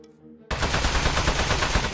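Rapid gunfire aimed at a metal robot in the video game Aperture Desk Job: after a quiet half-second, a loud continuous stream of automatic shots bursts in and hammers on without pause.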